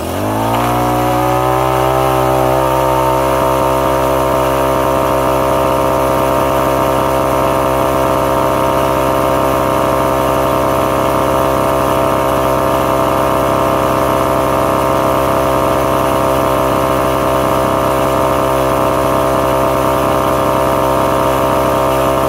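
A Craftsman C410 four-cycle 30cc cultivator engine starts and then runs steadily at close range, a loud continuous buzzing drone that settles into an even idle and holds without pause.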